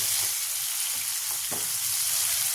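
Dry mushroom curry sizzles and fries steadily in a pan, a constant close hiss with a few soft stirring knocks, no voices.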